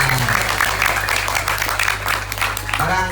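Audience at an Islamic religious lecture in Jakarta breaking into applause, a continuous wash of clapping heard alongside a steady low hum, with voices mixed in.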